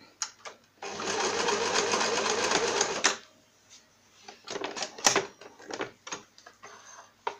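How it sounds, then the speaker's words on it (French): A sewing machine stitches a seam on a fabric pouch in one loud, steady burst of about two seconds, then stops, followed by scattered clicks and handling sounds of fabric close by. "vous faites un point en arrière pour bien consolider le tout"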